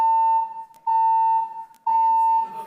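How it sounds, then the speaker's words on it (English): A fire alarm sounds in a room as a piercing, steady electronic tone, heard as three long beeps separated by short gaps, with faint voice-like sound near the end. "Fire alarm."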